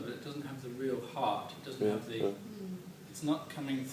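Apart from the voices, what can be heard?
None of the usual background noises is heard.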